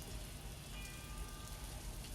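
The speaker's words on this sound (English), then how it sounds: "We have these raindrops and the church bells" Steady rain falls in the opening of a song, a dense, even hiss of raindrops with no other sounds.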